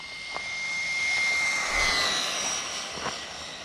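A DeeRc 1217 RC car's electric motor runs at full throttle outdoors, a thin, high whine that swells and peaks near the middle as the car passes, then fades slightly.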